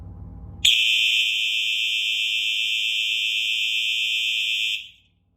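Simplex 4903-9236 and 4903-9241 electronic fire alarms sound a loud, steady continuous tone that starts abruptly after a brief low hum and holds for about four seconds before cutting off.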